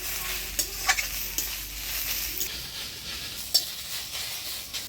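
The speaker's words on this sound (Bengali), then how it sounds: "শাকটা ভাজা ভাজা করে নেব" Five kinds of chopped leafy greens, lightly salted, stir-fry in a pan in a village kitchen: a continuous soft hiss and crackle with a few sharper scrapes and taps from stirring, close and with no voices.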